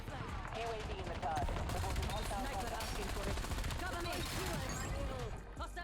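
Rapid automatic gunfire bursts in the Black Ops 7 video game, loud and continuous, mixed with game effects and a voice talking over the shooting.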